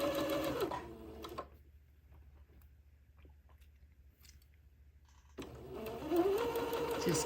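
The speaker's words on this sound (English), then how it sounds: "I've gotten better about sewing in a straight, slanted line when I sew these plackets on." Sewing machine stitching a placket on a Christmas dress in two close, steady whirring bursts at the start and end, separated by a quiet pause.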